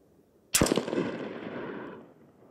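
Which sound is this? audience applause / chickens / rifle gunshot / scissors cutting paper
rifle gunshot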